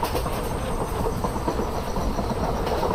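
A lone light locomotive runs in Indian Railways Train Simulator, giving a steady, close rolling rumble with rhythmic clatter and a faint hiss, no voices.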